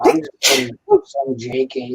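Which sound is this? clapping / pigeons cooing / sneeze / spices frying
sneeze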